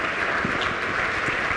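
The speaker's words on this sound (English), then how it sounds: "let's give Anderson a round of applause" Sustained audience applause at a university start-up competition finale, an even, fairly loud patter of many hands clapping throughout with no clear speech.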